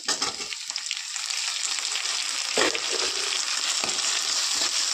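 Tomatoes tipped into frying onions in a pan set off a loud, sustained hiss and crackle, with a few sharp bursts from stirring and scraping, close up and continuous.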